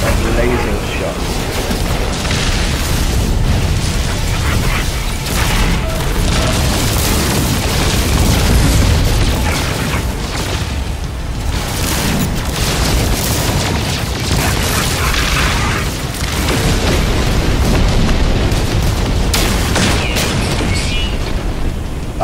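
Ship weapons in No Man's Sky, a phase beam and photon cannon, fire in a continuous loud barrage of booms and bursts, layered with rushing space-combat noise throughout.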